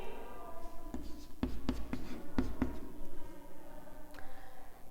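Handwriting on a surface in a classroom-style physics lesson, with a handful of sharp, separate pen or chalk strokes and taps spread across the moment, close and fairly quiet over a low background hum, with no talking.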